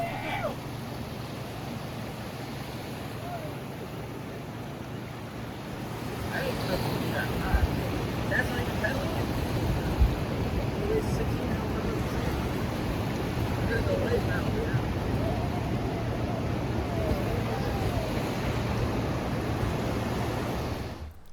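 A Hobie kayak driven by Mirage Drive pedal flippers pushes through ocean waves off the Oregon coast, with steady water rush and splashing under strong wind buffeting the microphone, growing louder partway through.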